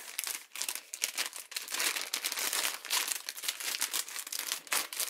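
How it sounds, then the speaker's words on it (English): A plastic Easter goodie bag being stuffed rips and crinkles continuously, crackling and tearing sharply up close for several seconds, with no talk. "The bag is ripping,"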